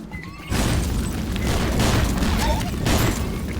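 A fire bomb explosion in the game Swamp Attack: a deep boom erupts after a brief quiet moment, followed by a sustained roaring rumble that stays loud throughout.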